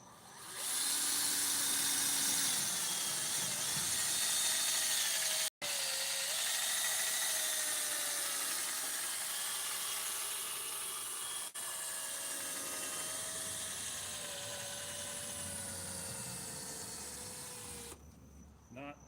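A cordless drill polishing a foggy headlight whines steadily at high speed, its pitch wavering and dipping briefly once before winding down near the end.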